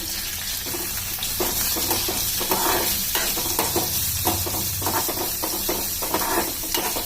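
Chopped green chilies and onion hit hot oil in a pan for a tamarind gojju, a loud hissing sizzle with repeated stirring scrapes and clinks up close.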